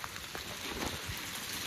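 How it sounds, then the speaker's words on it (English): Rain falling outside an abandoned hilltop mansion with a garden, a faint steady hiss of drops on surfaces heard briefly, with no talking. "Oh, the rain. The rain is bad, man."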